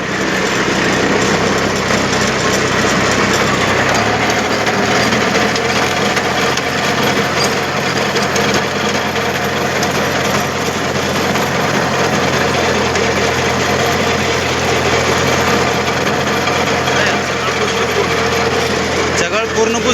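Tractor engine fitted with a homemade attachment for earthing up soil around ratoon sugarcane, running steadily and loud throughout with a constant drone, with no gaps.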